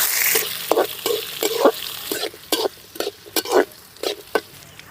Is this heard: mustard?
yes